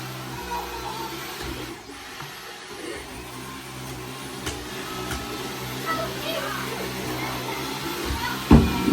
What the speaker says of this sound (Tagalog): Nag-vacuum lang